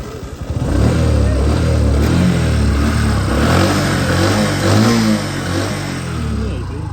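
A motorcycle engine starts and revs loudly up close, settling into a rough, throbbing run with uneven throttle swells.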